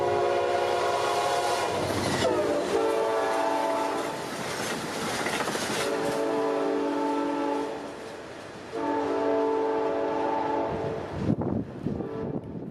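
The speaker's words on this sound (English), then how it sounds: "Amtrak 63, the Maple Leaf, would come into view, flying towards Amsterdam and ultimately Toronto." Amtrak 63, the Maple Leaf passenger train, races past at over 100 miles an hour, loud and close, with sustained horn blasts over rumbling, clattering wheels, the horn sounding repeatedly before the roar cuts off abruptly near the end.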